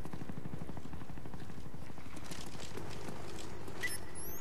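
Low, pulsing rotor-like drone of an enemy spy plane passing overhead in Call of Duty: Black Ops, a rhythmic throbbing under faint game ambience, moderate in level and steady throughout.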